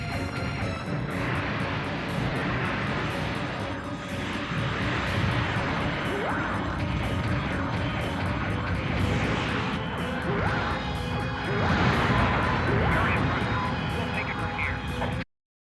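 In a Gundam video game battle, a dense, continuous roar of aircraft engines and explosions fills the scene, loud and busy throughout before it cuts off abruptly at the end.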